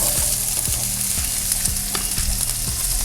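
Onions fry in hot oil in a kadai with a loud, constant sizzle, while a spoon scrapes the pan in a steady stirring rhythm roughly every half second.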